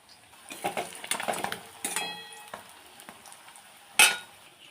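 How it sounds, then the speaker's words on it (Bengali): Small puti fish frying in oil in a home kitchen, with intermittent sizzling bursts, stirring and utensil scrapes against the pan, and one sharp metallic clink near the end. "এই যে আরও মাছ ভাজা হচ্ছে"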